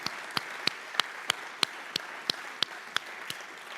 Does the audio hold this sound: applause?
yes